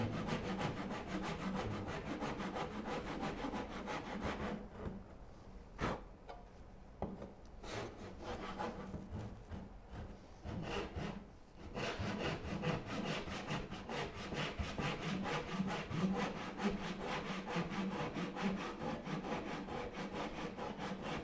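A hand saw cuts relief kerfs into wood in a rapid, rhythmic series of rasping back-and-forth strokes. The sawing pauses briefly in the middle with a few isolated scrapes, then resumes steadily at close range.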